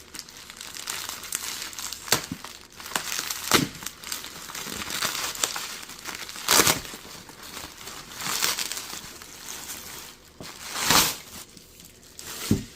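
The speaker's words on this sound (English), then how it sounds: "I'm just going to go ahead and start opening" Branded cardboard parcel packaging and tissue paper are opened by hand: continuous close crinkling and crumpling with sharper tearing bursts recurring every couple of seconds, no talking.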